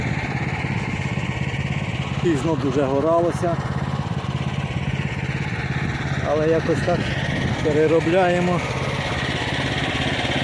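A homemade mini tractor engine runs steadily while working a field of large clods, a constant mid-pitched drone under two people talking.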